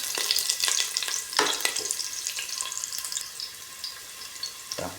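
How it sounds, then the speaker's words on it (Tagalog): Ginger sautés in a pan as the base for crab cooked in coconut milk, a crackling hiss with a few clattering utensil knocks early on, then a thinner sizzle, close by with no talking. "Igigisa ko muna para mabango."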